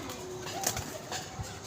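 Pigeons at a pigeon club loft coo softly, a few low, faint murmurs over a steady background hum, with brief rustling.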